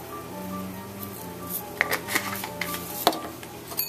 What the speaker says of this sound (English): Give it another mix.